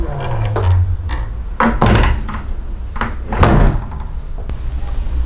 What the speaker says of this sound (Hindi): ये फिटिंग लगाने के बाद एक दरवाज़ा बंद करते हैं, उसके बाद दूसरा दरवाज़ा जब आप बंद करेंगे तो ऑटोमेटिकली वो दरवाज़ा भी लॉक हो जाता है।